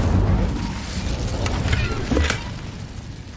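Incendio fire spell cast during play in Hogwarts Legacy, a loud low rumbling whoosh of flame with a brief crackling burst near the middle, fading out over a few seconds.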